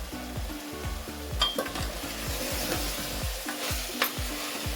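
Chicken being stirred with turmeric and coriander powder in a hot pan, a repeated rhythmic scraping of a spoon over the pan under a continuous close sizzle, with occasional metallic clinks and no speech.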